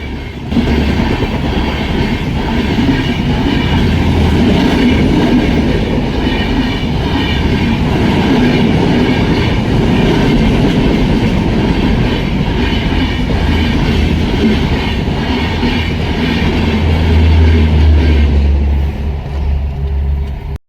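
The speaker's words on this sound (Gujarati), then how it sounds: "20 મિનિટ પછી ટ્રેન આવી" A train rumbles steadily past a closed railway crossing, a loud, continuous roar of wheels and carriages holding for the full stretch, with a heavier low rumble building near the end.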